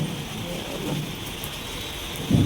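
Heavy rain pours at a temple courtyard beside a peepal tree, a dense, continuous hiss of drops on surfaces. It stays steady and close, with a low rumble swelling near the end.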